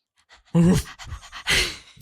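A dog pants in short, rapid bursts of breath close by, with a louder burst near the start and another toward the end, a quiet domestic setting.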